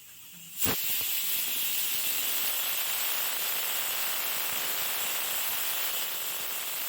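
Pressure cooker whistling while drumstick sambar cooks, a sharp onset then a loud, steady, close hiss that continues to the end.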